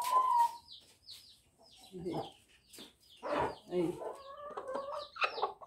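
Free-range hens in nests inside a hen house cluck and squawk in uneven bursts, one of them laying, while a person talks over them close by.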